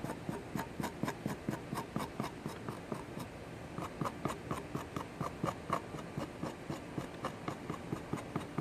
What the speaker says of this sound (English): I'll go in here and cut little grooves.